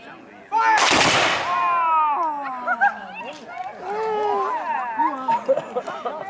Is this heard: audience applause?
no